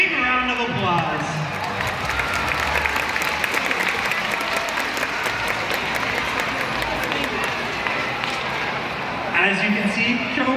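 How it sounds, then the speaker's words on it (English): Spectators at the SeaWorld San Antonio orca show applaud and cheer in a large outdoor stadium, dense clapping continuing while an announcer talks over it. "Let's give our audience volunteers a big round of applause."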